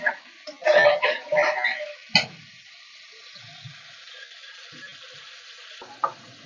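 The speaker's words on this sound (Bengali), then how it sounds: "আলুটা মাংসটা একসাথে দিয়ে দিয়েছি, কিছুক্ষণ নাড়াচাড়া করার পরে তারপরে আমি ঢেকে দিব।" Potatoes and meat frying in a pan, stirred with a utensil in a few brief scraping and clanking bursts over a faint low sizzle, heard close by with no talking.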